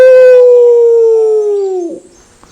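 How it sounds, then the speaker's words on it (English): A dog gives a single loud, close howl, a long steady tone that slides slowly downward for about two seconds before breaking off and fading. "Seven's head just comes up and he starts howling"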